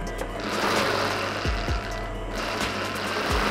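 A sewing machine stitches a princess-cut blouse, running in a steady, dense mechanical whir with a few low knocks from the mechanism, close and continuous, with no voices.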